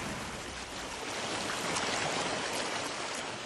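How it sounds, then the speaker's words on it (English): Water pours steadily over the upper and lower falls at McKinney Falls into pools below, a constant broadband rushing roar with no pauses, moderately loud and close, with no voices. "The force of the water is what has given us the fabulous falls, and it's kind of neat to watch."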